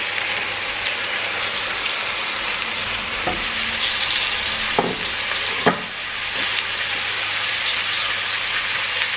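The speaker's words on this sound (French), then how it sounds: "donc là on va venir ajouter les tomates dans le mélange" Quartered tomatoes go into a frying mixture, keeping up a dense, steady sizzle like rain on a surface, with a few stirring knocks and one sharper clack partway through; nobody speaks.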